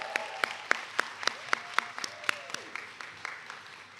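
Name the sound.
audience applause at graduation ceremony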